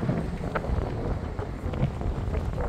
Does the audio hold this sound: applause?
no